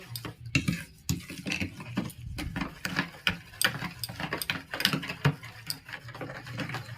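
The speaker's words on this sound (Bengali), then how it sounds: "এটা আমি ভালোভাবে ফাটিয়ে নেব" Yogurt and sugar are beaten for a lassi with a spoon or whisk in a bowl. It makes a rapid, irregular run of wet tapping and clattering strokes close up, with no talking.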